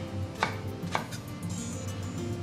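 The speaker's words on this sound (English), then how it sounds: "So we just cut that" Knife chopping aubergine on a board for ratatouille, a few sharp, close cuts spaced unevenly over a faint background hum, with no talk.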